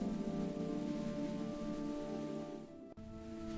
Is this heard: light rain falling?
yes